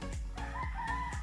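Chickens at a small backyard coop, with a rooster crowing and hens clucking close by in a short, busy burst of overlapping fowl calls.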